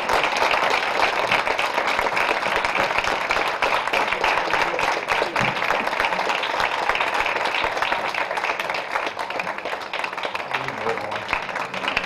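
A crowd applauds steadily and fairly loudly at a gathering welcoming Michael Brown Sr., dense clapping sustained for about twelve seconds.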